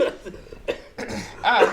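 A few sharp coughs in quick succession, close to the mic, with brief pauses between bursts and no talking.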